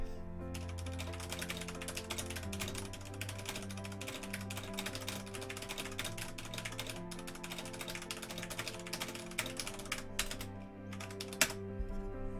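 Rapid, continuous typing on a mechanical keyboard with Cherry MX switches, a dense clatter of key presses lasting about twelve seconds, heard close and steady over a faint tonal background with no speech.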